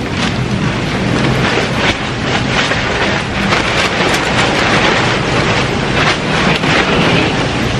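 Strong wind roars and buffets against UV plastic sheeting in a plant-growing area, a loud, constant rushing with irregular flapping bursts throughout.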